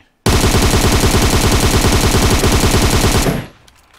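An M762 Beryl rifle fitted with a compensator, half grip and 2x optic fires a loud, close full-auto burst of rapid, evenly spaced shots for about three seconds, then stops sharply into quiet, with no talking.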